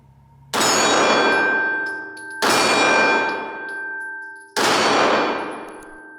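Handgun shots ring off a steel target as three loud, separate metallic clangs about two seconds apart. Each strike leaves a bright ringing tone that fades slowly, with no talking.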